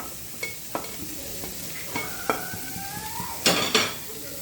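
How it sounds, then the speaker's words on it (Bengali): Shredded chicken being stirred into softened tomatoes in a pan, making a soft sizzle broken by several sharp scrapes and clinks of a utensil against the metal, with a louder clatter near the end. "এবারে এই চিকেন ফাইবারগুলো মিশিয়ে দেবো।"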